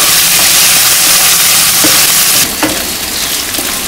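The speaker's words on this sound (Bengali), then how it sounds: "আমি রসুন বাটাটা দিয়ে আর একটু ভাজা ভাজা করে নিব" Onions sizzle loudly in a pan with garlic paste added, a steady close hiss of frying with a few stirring knocks.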